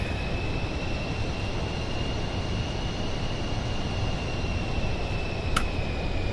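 A simulated airliner on final approach in Microsoft Flight Simulator 2024 gives a steady, dense engine drone with a thin whine running on top and a brief click near the end, no talking.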